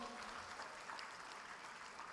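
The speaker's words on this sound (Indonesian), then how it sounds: "Tepuk tangan untuk UBL." A crowd at a university event claps for Universitas Bandar Lampung, a faint, steady wash of applause lasting the whole moment.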